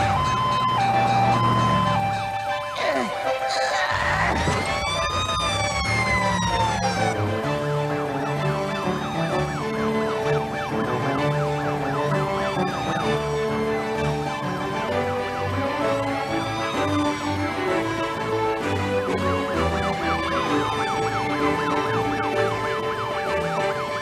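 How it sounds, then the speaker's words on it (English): Cartoon fire engine and emergency vehicle sirens wail over a bright musical score, the rising and falling tones repeating steadily through the whole stretch at a loud, even level. "The sirens say, help's on the way!"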